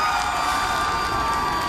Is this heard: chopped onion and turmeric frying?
no